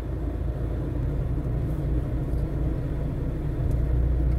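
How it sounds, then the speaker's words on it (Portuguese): Steady traffic of cars heading toward the air base in Natal, a continuous low rumble of engines and tyres at moderate loudness, unbroken and without voices. "Tudo indo aqui para a base aérea, esses carros."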